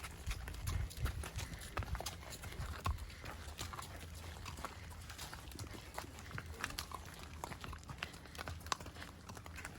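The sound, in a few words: horse hooves clip-clopping on a ride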